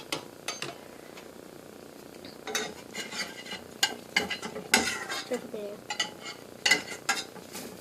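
Fruit pancakes sizzling in a pan while a spatula scrapes and turns them, sharp intermittent clinks and scuffs over a low frying hiss, nearby.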